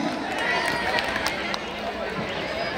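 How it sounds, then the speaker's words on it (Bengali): Steady applause from a reunion audience clapping for Karim, a dense, even patter of many hands filling the room with no breaks. "সবাই করিমের জন্য জোরে করে হাততালি"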